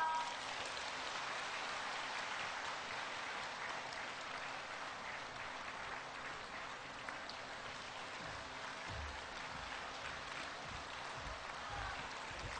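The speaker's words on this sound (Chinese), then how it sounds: "现在，让我们用最热烈的掌声，恭请尊敬的卢军宏台长。" A large hall audience at a Buddhist dharma assembly in Madrid gives sustained, dense applause that holds evenly throughout, heard at a distance with no talking over it.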